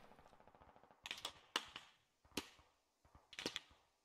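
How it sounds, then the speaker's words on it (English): Distant gunfire in the tactical shooter Squad comes as sharp irregular cracks and short bursts, some closer and louder, spaced through an otherwise quiet stretch. "They're shooting at us."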